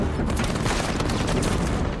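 Sustained gunfire in the video game Uncharted 4: a loud, unbroken volley of rapid shots and booms packed tightly together, with no pause across the brief span.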